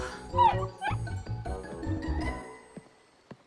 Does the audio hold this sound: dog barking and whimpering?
yes